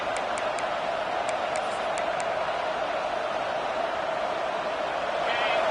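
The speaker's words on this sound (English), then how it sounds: "And wow, listen to this crowd noise. This stadium is vibrating." A stadium crowd roars in the College Football 26 video game. The noise is a dense, steady wash with faint ticking clicks near the start, and commentary talk can be heard over it.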